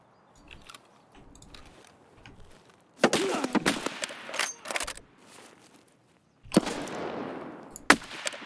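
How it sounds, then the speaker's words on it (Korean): Bursts of gunfire from AI scavs in Escape from Tarkov crack out in loud clusters, with quieter shots and small handling noises in between and a distant tail after the heavier volleys. "모드 스케이브들 총 엄청 잘 쏴"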